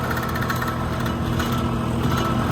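A tractor pulls a 13-tine cultivator in low gear, its engine running as a steady, loud, close drone without letup.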